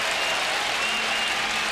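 A baseball crowd roars and applauds steadily, urging on pitcher Halladay in a Red Sox at Blue Jays game in Toronto, a dense continuous wall of cheering with a faint whistle-like tone running through it.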